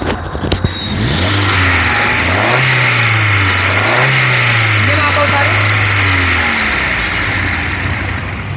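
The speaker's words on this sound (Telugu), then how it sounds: "సింగిల్ సెల్ఫ్లో కార్ స్టార్ట్ అయితే ఎటువంటి స్టార్టింగ్ ట్రబుల్ అయితే లేదు" A 2013 Hyundai i10 Magna engine cranks briefly, starts, then revs up and down several times, the pitch swelling and falling before settling back to idle, close and loud, with a voice talking over it.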